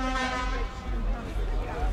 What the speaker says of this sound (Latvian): Var vēl uztaurēt?